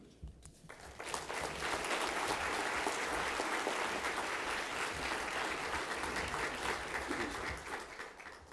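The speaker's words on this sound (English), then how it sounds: "just another round of applause for our volunteers" After a quiet moment, an audience at a human services celebration breaks into sustained applause for volunteers, a thick wash of clapping that holds steady and tapers off near the end.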